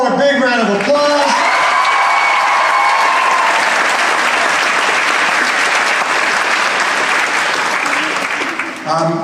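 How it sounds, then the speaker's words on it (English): Loud, sustained applause from a large audience at a middle school graduation ceremony, with scattered cheers and whoops early on, filling nearly the whole stretch before fading near the end. "Let's give Felicia Crawford one more big round of applause."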